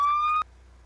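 A steady electronic emergency vehicle siren tone in the Roblox game Twisted holds for less than half a second, then cuts off abruptly into low hum.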